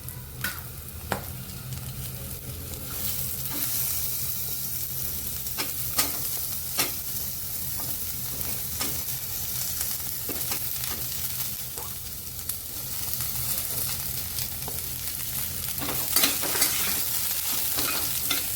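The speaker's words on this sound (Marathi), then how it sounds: "कांदा पण चांगला लाल होईपर्यंत परतून घ्यायचा आपल्याला" Chopped onion and garlic sauté in hot oil for a prawn masala, with a constant low sizzle and repeated sharp clicks of a spatula stirring in the pan, close and without talk.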